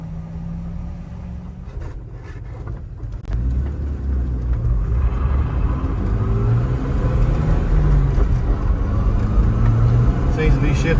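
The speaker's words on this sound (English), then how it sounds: "now we just need to go run it through the gears a few times and see what we think" A Jeep TJ with a manual transmission drives along, its engine rumbling steadily and rising as it pulls through the gears, a continuous close road drone with no talk.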